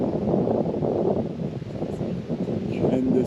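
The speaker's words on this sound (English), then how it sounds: "This wind feels just amazing." Wind blows steadily outdoors at a trail shelter on the Appalachian Trail, a full rushing roar against the microphone with rustling underneath, continuous and close.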